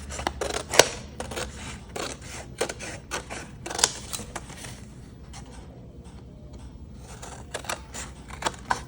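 Trimming a handmade birthday card with a paper trimmer, a run of sharp clicks and snips in quick irregular bursts, close and fairly quiet, easing off briefly midway before picking up again.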